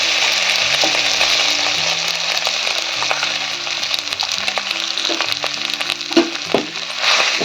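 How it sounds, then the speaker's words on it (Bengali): Potatoes and gima greens frying in hot oil with black cumin, a loud continuous crackling sizzle with scattered pops and stirring scrapes, close and without speech. "আলু আর এই গিমে শাকটা আমি তেলের মধ্যে দিয়ে দেবো"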